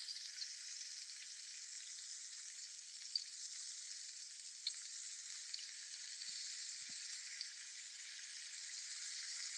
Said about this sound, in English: Can anybody hear the sound of bacon sizzling la, being cooked?